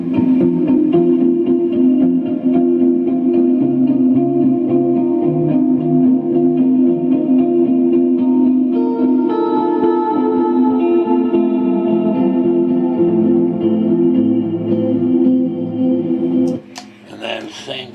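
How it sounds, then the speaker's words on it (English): Sustained electric guitar chords through a Specular Tempest reverb pedal, washed in lush, shimmering reverb with long echoing tails, playing steadily and loudly before a brief sharper strum near the end. "the Specular Tempest reverb."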